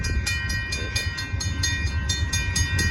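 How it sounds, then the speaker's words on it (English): An Amtrak Texas Eagle passenger train, the northbound 22, passes at Oltorf Street in Austin, Texas, with a steady loud rumble and a regular clickety-clack of wheels over rail joints throughout. "here comes Amtrak"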